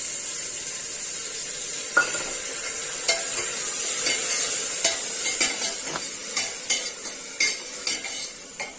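Steady oil sizzling hisses as spices fry for a tadka in a pan while a utensil repeatedly scrapes and clinks against the metal, the stirring taps growing more frequent.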